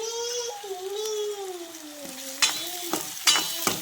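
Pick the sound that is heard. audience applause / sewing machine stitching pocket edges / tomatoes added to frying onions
tomatoes added to frying onions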